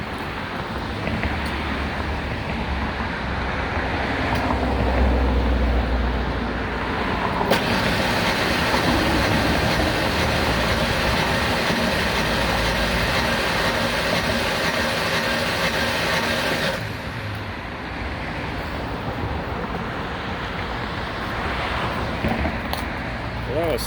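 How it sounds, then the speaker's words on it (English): A 1996 Ford Ranger with the 3.0L engine cranks on the starter during a compression test, a steady mechanical churning that runs for about ten seconds before stopping, amid surrounding shop noise. "I usually crank it for about 15 seconds, maybe 10"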